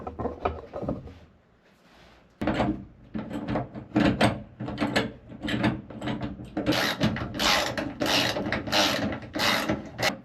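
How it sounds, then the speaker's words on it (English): Repeated rapid ratcheting of a 9/16 socket wrench tightening the clamps of a DiamondBack truck bed cover on a 1995–2004 first-generation Toyota Tacoma, a close, loud series of clicking bursts after a brief quiet pause. "Now they take a 9/16 socket wrench."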